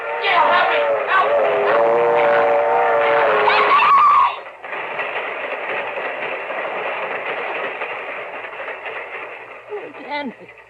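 A train sound effect in an old-time radio mystery drama, with a loud rumbling, whistle-like tone that cuts off abruptly and gives way to a steady clattering rush that fades at the end.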